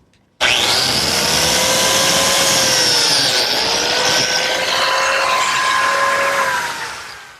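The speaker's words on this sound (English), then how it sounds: "To make the biscuit slot, I need this auxiliary fence on my biscuit joiner, and the miter just fits right into the corner." A biscuit joiner with an auxiliary fence plunges into the corner of a wooden miter joint, giving one loud, close, continuous cutting whine with a falling motor pitch that lasts several seconds before winding down.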